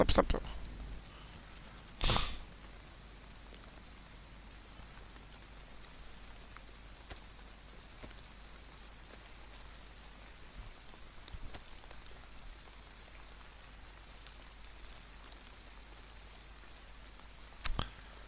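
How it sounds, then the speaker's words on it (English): Steady rain falls in DayZ on the Chernarus map, a soft continuous patter with a few sharp clicks and bumps standing out against it, and no voices are heard. "it's too wet, isn't it, with this bloody rain"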